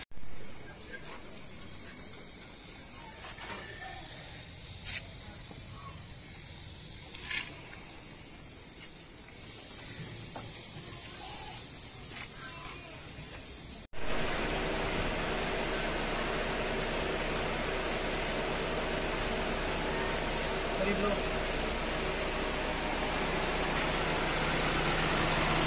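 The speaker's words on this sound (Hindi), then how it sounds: "चलें अब इसको वैक्यूम पे लगाते हैं।" A vacuum pump evacuating the AC system of a 2007 Mitsubishi Lancer starts partway through as a loud, steady broadband hiss and hum that runs unbroken to the end, after a quieter stretch of faint clicks and workshop noise.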